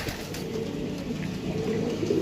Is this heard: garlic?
no